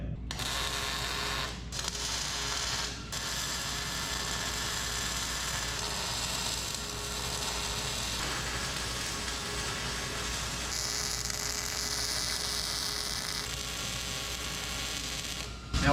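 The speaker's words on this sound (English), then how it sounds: "Now we are welding 3/8 to 1/8 inch." Arc welding 3/8-inch steel to 1/8-inch steel on a 1963 Loadstar flatbed truck build. A steady, close crackling buzz runs almost without break, with short pauses near the start and a low electrical hum underneath.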